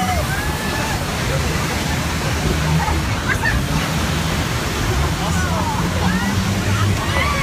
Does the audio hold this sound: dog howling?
no